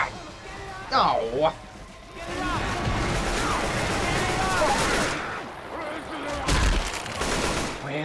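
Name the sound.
pipe bomb beeping and exploding in Left 4 Dead 2 video game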